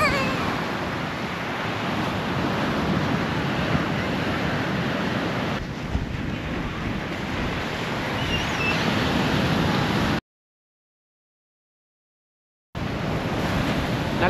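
Surf breaks and washes continuously at Blueflag beach on Chennai's ECR, recorded up close with heavy wind buffeting the microphone and a brief silent gap near the end.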